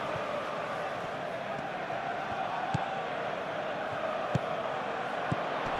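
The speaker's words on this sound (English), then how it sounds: "the crowd are reacting to that now" A stadium crowd in the eFootball PES 2021 football game, Arsenal against Atletico Madrid in a Champions League semi-final, keeps up a steady, broad roar with a few faint thuds breaking through.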